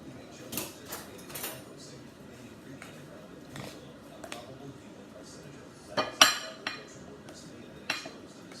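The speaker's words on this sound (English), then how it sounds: "Now with these steaks right now, I'm gonna cut them." A knife cuts cooked steaks on a plate, with sparse scraping taps and clinks of metal on china spread across a quiet kitchen, one louder clatter standing out.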